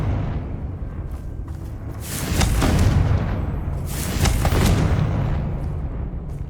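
Two deep, rumbling booms from Confringo fire spells in Hogwarts Legacy, roughly two seconds apart, each swelling and crackling before fading under steady game ambience.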